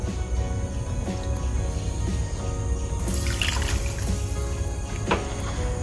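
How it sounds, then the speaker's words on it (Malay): A cup of water is poured into a cooking pot that already holds palm sugar, salt and cut pandan leaves, a short trickling splash rising over background hum. "saya masukkan satu cawan air."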